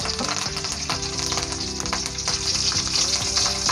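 Curry leaves and green chillies sizzle and crackle loudly in hot oil for a chicken pulav, a dense, steady frying hiss with sharp popping bursts throughout and no talk.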